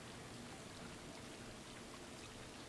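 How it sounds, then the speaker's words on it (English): In the video game Stray, rain falls as a dense, steady patter and hiss, even and unbroken, with no voices. "It's raining."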